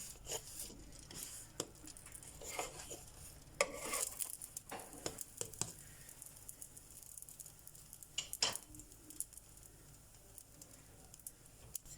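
Mini stuffed bazlama flatbreads cook in a pan with a steady low sizzle, broken by a few sharp scrapes and knocks as they are turned, fairly close and with no talking.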